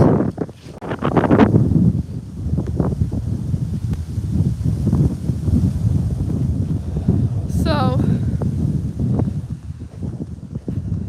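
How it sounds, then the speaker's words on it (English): Strong outdoor wind buffeting the microphone while someone walks, a loud continuous rumbling roar with gusts, and a person talking under it at times. "there's a lot of wind"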